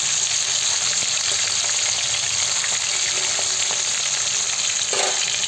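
Hilsa fish fries in hot oil with a steady, loud, close sizzle that crackles and spits throughout, and no voices are heard.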